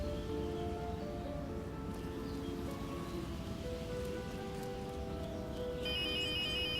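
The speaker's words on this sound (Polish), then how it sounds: "Muszę odebrać ten telefon." A phone rings in the Star Stable horse-riding video game, sounding faint, tonal electronic ringtone notes over a steady bed of rain-like ambient noise, with no talking.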